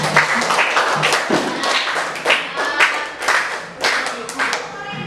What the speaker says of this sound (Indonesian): Yang berikan tepuk tangan dulu untuk Brahma.